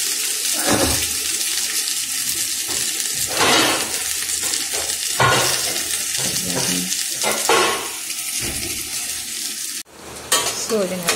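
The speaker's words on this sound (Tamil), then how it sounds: "வெங்காயம் நல்லா டீப்பாக ஃப்ரை ஆகணும்." Onions deep-frying in a pan for tomato kurma, a loud steady sizzle broken by repeated spoon scrapes and stirs, with a brief watery splash near the end.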